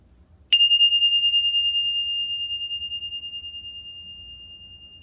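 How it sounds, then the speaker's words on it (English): Tibetan tingshas, small hand bells, are struck once, giving a sharp, bright ding that rings on as a pure, sustained tone, slowly fading with a gentle pulsing shimmer in an otherwise quiet room. "come back to the sound of the tingshas"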